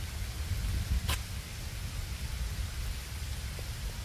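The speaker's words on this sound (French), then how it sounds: "C'est pas la petite pluie" Heavy rain pours down in a Seoul garden, a dense, even hiss of steady downpour with low rumbling underneath and a single sharp crackle early on, with no voices.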